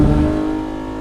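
A Lamborghini Aventador's engine in a racing video game drones at a steady high rev, loud and close, briefly and without speech.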